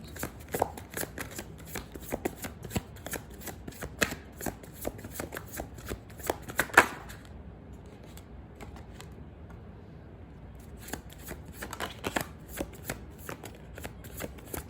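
Tarot cards being shuffled in a long run of quick, close riffling and flicking bursts, with a short quiet stretch midway before the shuffling picks up again.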